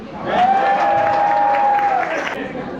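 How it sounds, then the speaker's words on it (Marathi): Loud applause and crowd noise fill a Home Minister prize-giving programme in Kandivali, Mumbai, with a sustained whistle-like tone riding over the clapping and voices mixed in. "जोरदार टाळ्यांचा गजर"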